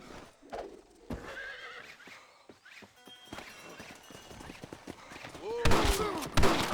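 Wild horses in the Red Dead Redemption video game give off scattered hoofbeats and clatter, building to a loud, close whinny near the end, with faint shot-like cracks among them.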